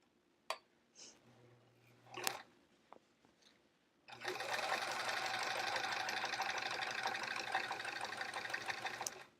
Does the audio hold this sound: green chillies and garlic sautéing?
no